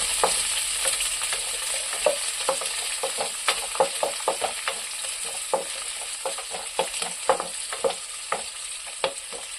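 Chopped onions sautéing in a pan for mushroom gravy, with steady frying sizzle and frequent sharp scrape-and-clink strokes of a spoon stirring against the pan, close and moderately loud, no talking.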